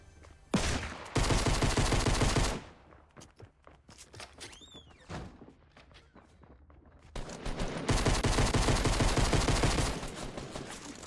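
Rapid automatic gunfire in Fortnite, two long loud bursts of fast shots separated by scattered single cracks and quieter in-game movement, close and dominant with no talking.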